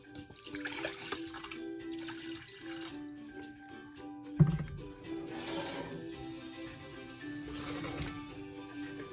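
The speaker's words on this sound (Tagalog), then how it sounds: "Just put some water." Water runs from a tap into a pot for ginger tea (salabat), a moderate splashing flow in several bursts with clanks and a thump midway, fairly close in a home kitchen; no talking.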